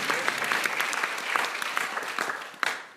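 Church congregation claps in praise during a worship service, a brief burst of dense applause with a few sharper claps near the end before fading.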